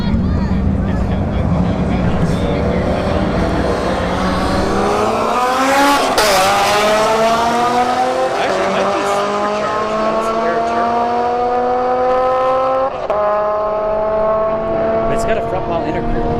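A Turbo S2000 with a front-mount intercooler and a Mercedes wagon launch side by side at a drag strip: loud roaring engines with tire squeal, then rising, shifting engine tones that climb repeatedly as the cars pull away, with a voice talking over them.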